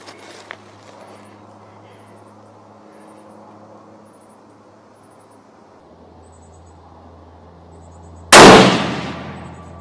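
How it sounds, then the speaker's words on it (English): A single sharp rifle shot cracks out loud and close near the end of a group test through a Valdada Recon G2 scope, after a long stretch of quiet outdoor background with faint distant chirps. "Third shot."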